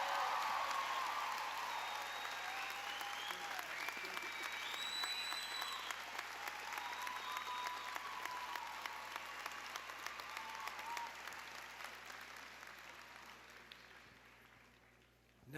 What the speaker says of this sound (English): Another round of applause for Borough President Diaz.